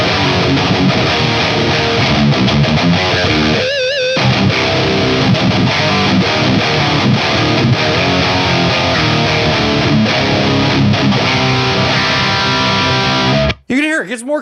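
Heavily distorted electric guitar played through a Mesa/Boogie Mark amplifier set to its Mark IV mode, dense chugging metal riffs loud and continuous, with a brief pause midway and an abrupt cut near the end.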